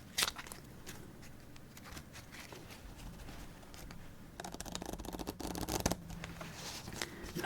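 Playing cards from an oil-finish deck are shuffled close by in a quiet setting, a soft ongoing riffle and rustle that grows into a denser, louder burst of rapid card flicks partway through.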